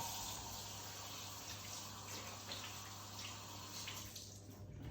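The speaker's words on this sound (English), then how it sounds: "I'll just wash my hands." Tap water runs steadily into a sink while hands are washed under it, a faint continuous splashing rush with slight changes as the flow is disturbed.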